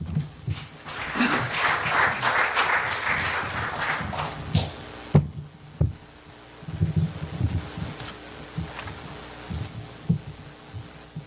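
An audience at a book launch applauds for about five seconds, then the clapping cuts off, leaving a quieter room with scattered thumps and handling noises.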